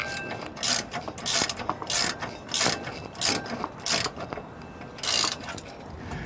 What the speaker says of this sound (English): So we've got our nuts tightened back down to the point where it's up against the bottom here.